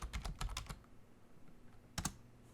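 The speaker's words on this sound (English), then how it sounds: "let me clear the screen and type ifconfig" Quick run of keystrokes typing a short Linux command on a computer keyboard, then a pause and one firmer key press near the end, close and fairly quiet with no talking.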